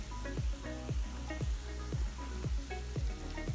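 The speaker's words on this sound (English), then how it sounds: "So now this has been frying maybe about 5 minutes" Jamaican fried dumplings made with all-purpose flour sizzle and crackle steadily in oil, with a regular thumping beat running underneath.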